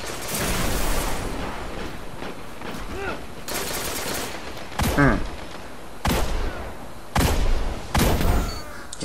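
Hand cannon shots in a video game, with several loud separate cracks spaced a second or two apart over continuous game noise, while someone talks between and under the shots.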